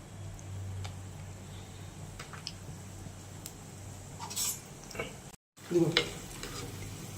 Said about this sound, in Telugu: ఇప్పుడు మనం వేరుశనగపప్పులు పచ్చెనగపప్పులు దాంట్లో వేసుకొని ద్వారగా వేయించుకుందాం.